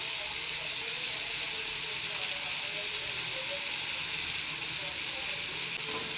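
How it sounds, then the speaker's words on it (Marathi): Spices sizzling in hot oil in a kadai, an even, close frying hiss that holds steady throughout, with faint stirring and no talk. "त्याच्यात मसाले टाकून देऊ."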